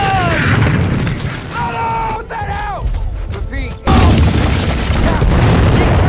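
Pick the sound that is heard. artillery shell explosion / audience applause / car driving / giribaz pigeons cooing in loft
artillery shell explosion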